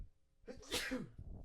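A single sharp sneeze from a person on a podcast, loud and close, opening with a breathy intake and ending in a short burst.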